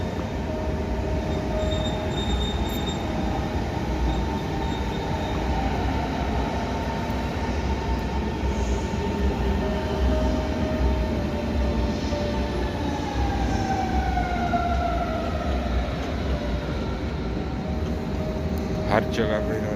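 Trains crowd the platforms at Berlin central station, a steady rumble of rolling cars with metallic wheel squeals rising toward the end, under a continuous hum of the large hall; someone talks throughout.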